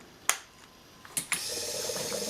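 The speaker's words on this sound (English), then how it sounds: "switch on the ignition. And so you get the priming pump." A car's fuel priming pump starts after the ignition is switched on: a few sharp clicks, then a steady faint electric whir that carries on to the end.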